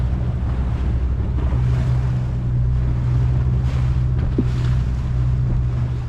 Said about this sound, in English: driving the boat using the engine